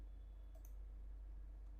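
A single short mouse click, close and soft over a steady low hum, made while working in SPSS statistics software on a computer.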